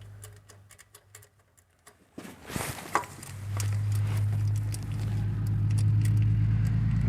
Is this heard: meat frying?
no